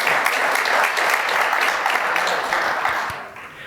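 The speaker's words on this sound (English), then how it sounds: "Please give everyone a round of applause." A room full of attendees at an energy cooperative district meeting gives a round of applause, many hands clapping at a steady, fairly loud level before tapering off at the end.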